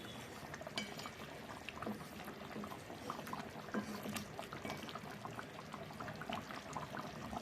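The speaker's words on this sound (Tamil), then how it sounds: "ஒரு அஞ்சு நிமிஷம் அப்படியே கொதிக்கட்டும்" Thick chicken gravy bubbles and simmers steadily in a pot, with soft popping and gurgling close up, continuous and unhurried, no voices.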